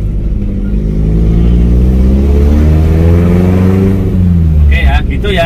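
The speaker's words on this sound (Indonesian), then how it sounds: "knalpot saya terlalu keras suaranya" A Suzuki Vitara 4x4 engine revs loudly close by through an overly loud exhaust, its deep note rising and holding in a rough drone before easing off.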